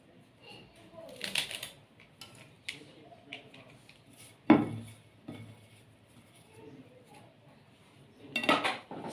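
Mint leaves cut with a knife or scissors into a cooking pot, giving a few sharp metallic clinks and scrapes against the pot with quieter rustling between them, heard close and alone.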